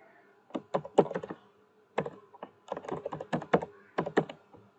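Someone types a name on a computer keyboard in short bursts of clicky keystrokes separated by brief pauses, close by and moderately loud, with no talking.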